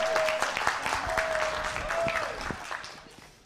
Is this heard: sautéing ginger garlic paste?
no